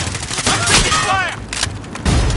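Dense gunfire crackles and booms in the shooter game Payload Assignment, a loud, continuous burst of shots and explosions near the listener, with a brief shouted voice and whistling tones mixed in.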